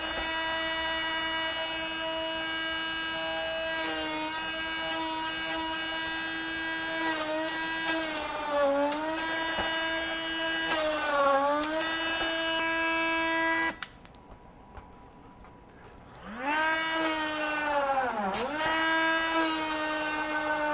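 A Ryobi RHS01 rotary tool mounted in its hobby station whines steadily, its pitch shifting with speed and load, then cuts out briefly before spinning back up.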